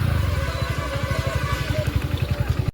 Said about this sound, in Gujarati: બાઇકનો સેલ માર્યો.